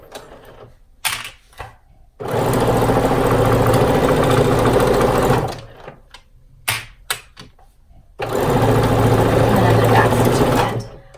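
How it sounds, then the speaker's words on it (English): A sewing machine stitches a zipper bag in two long, loud whirring runs separated by a pause filled with brief handling clicks. "I'm going to lock that by back stitching it. And now I'm going forward."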